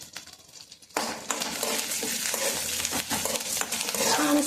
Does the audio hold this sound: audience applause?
no